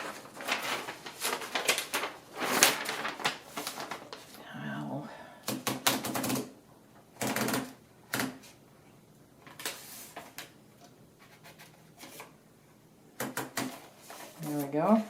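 Paper rolling into an Underwood 3-bank typewriter, with bursts of ratcheting platen clicks and mechanical rattles between pauses, close and fairly loud, while a person talks over it.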